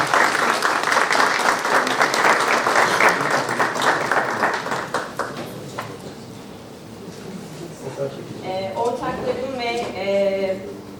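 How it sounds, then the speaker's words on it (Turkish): Loud, dense applause from an audience at the E-Anadolu e-commerce awards ceremony in Bursa as an award recipient comes to the stage. The clapping fades after about six seconds, and a voice then speaks alone. "Alkışlarla."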